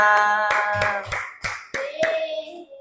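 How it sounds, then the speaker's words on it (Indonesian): A class of students claps for a group that has just finished presenting, giving a few separate, rhythmic bursts of clapping mixed with children's voices. "beri tepuk tangan kepada kelompok 1 yang sudah mempresentasikan"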